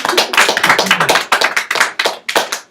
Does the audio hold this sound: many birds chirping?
no